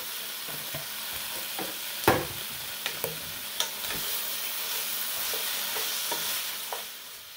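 About a pound and a half of cabbage is stir-fried with green onions and garlic in a pan, crackling in a soft steady sizzle with a few sharp clacks and scrapes of a utensil stirring it.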